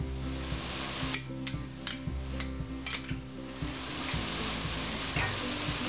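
Butter being worked into a pot of simmering cream of mushroom soup, a steady close sizzle with repeated scraping and stirring strokes of a utensil against the pot, no talking.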